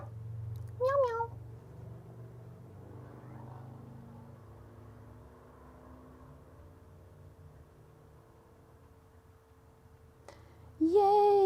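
A voice imitates a cat's meow twice, once near the start and once at the end, with a quiet low hum in between.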